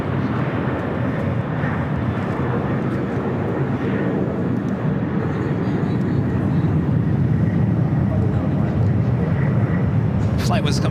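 Delta Airlines 737-800 arriving at LAX from Seattle, a loud, steady broadband jet roar that fills the whole stretch without pause.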